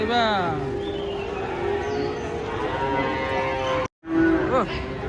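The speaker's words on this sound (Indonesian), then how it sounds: "Sapi." Several cows unloading from a truck moo in long, drawn-out calls, one after another, fairly close, with a brief gap before a final loud moo.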